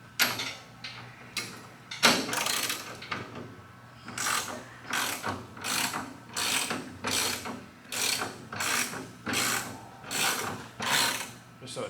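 A motorcycle stand under a 2019 Suzuki RM-Z250 dirt bike is lowered with a steady series of close, loud mechanical ratcheting clicks in repeating rhythmic bursts, with no talk over them.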